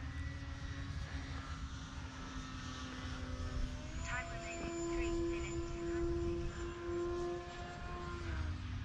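An E-Flite Night Timber X RC plane flies at a winter fly-in, its electric motor droning steadily and rising to a loud, tonal whine as it passes nearer, with faint talk in the background.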